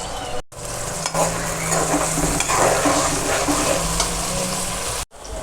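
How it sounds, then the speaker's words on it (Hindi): Chopped onions, green chilies and cashews roast in a pan with oil for a chicken white handi, giving a loud, dense, continuous sizzle with stirring scrapes close up. Two brief cuts break the sound. "14 से 15 काजू ऐड कर दूंगी और इसको रोस्ट करूंगी"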